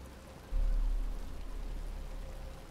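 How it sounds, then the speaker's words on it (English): Rain beginning to fall in the video game Batman: Arkham Asylum, a sudden swell of soft, steady hissing rainfall that starts half a second in and continues evenly, with no talking. "But it's starting to rain."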